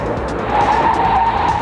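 A Mazda Protege without anti-lock brakes locks its tires under hard braking, producing a sustained, loud skid squeal that swells after the first half-second and holds steady.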